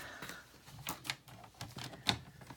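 Cardstock cut on a paper trimmer, heard as a quiet sequence of close sliding scrapes and ticks from the blade, with a sharper snap near the end.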